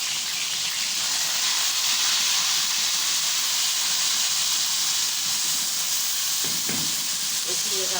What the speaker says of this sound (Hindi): ये देखिए, अब टमाटर डाल देते हैं।